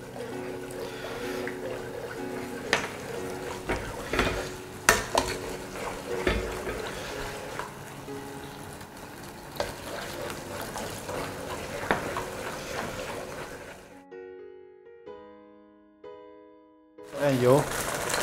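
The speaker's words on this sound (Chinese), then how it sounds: "我们锅里剩下汁儿，扯个芡粉。" A wok of leftover braising sauce from braised pork with deer antler mushrooms is stirred as starch thickens it, with steady bubbling, sizzling and scraping for most of the clip, then a near-silent pause before brief clatter.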